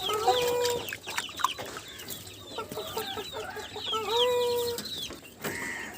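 Backyard village chickens clucking and calling close by, several overlapping birds with rising squawks and short cackles throughout, no people talking.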